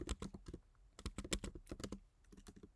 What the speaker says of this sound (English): now I'm just gonna type hello YouTube.